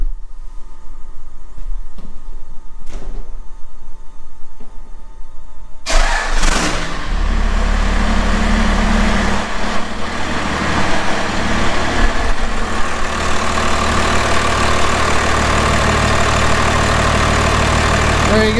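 A 5.9 Cummins diesel with a P-pump cranks and catches after a few seconds of background rumble, then settles into a loud, steady, close-up idle that runs unbroken to the end.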